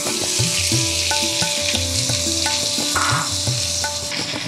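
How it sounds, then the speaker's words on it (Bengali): Water chestnuts sizzle as they fry in hot oil in a wok for a curry, a steady broadband crackle heard close up, with a soft tonal hum and occasional stirring scrapes beneath it. "এই তেলের মধ্যে আমি এই পানি ফলটা ছেড়ে দিচ্ছি"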